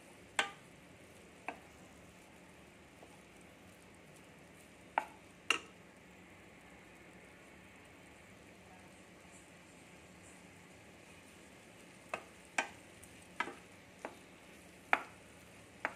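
Boiled millets stirred into broccoli in a pan, with a few sharp spoon clicks and taps against the pan scattered across an otherwise quiet stretch with no talking.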